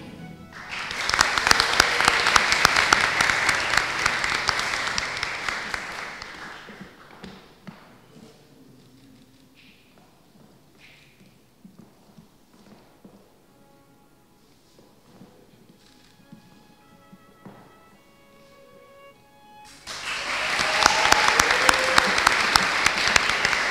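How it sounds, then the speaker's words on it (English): Loud audience applause at a 2023 medical graduation ceremony fills the first seven seconds and fades to scattered claps. A quieter stretch follows, then a second strong burst of clapping returns near the end. "let's give her a round of applause"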